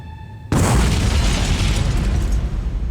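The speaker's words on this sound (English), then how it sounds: "the suicide bomber had blown himself up" Suicide bomber's explosion: a sudden deafening blast after a faint tone, followed by a long roaring, rumbling decay that fills the rest of the moment.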